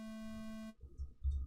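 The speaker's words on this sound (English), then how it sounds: "That's a sine wave." A steady, clean synthesizer sine-wave tone from the video game Eliza holds for about three quarters of a second, then cuts off abruptly and leaves faint low rumbles behind.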